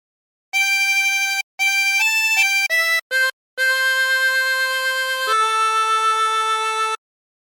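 A 24-hole tremolo harmonica plays a hymn melody (What a Friend We Have in Jesus) in sustained, wavering reedy notes, several separate breaths then one long held phrase, close and clear with no talking.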